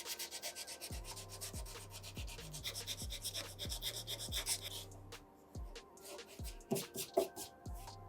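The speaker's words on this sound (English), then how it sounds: "take some sandpaper, use 100 grit" Wood is hand-sanded with 100-grit sandpaper for a DIY fireplace mantel floating shelf, giving rhythmic back-and-forth rasping strokes, close and regular, then easing into lighter scattered scrapes.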